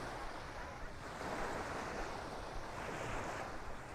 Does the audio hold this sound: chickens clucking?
no